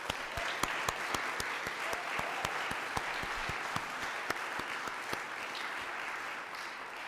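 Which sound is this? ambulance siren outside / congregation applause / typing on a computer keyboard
congregation applause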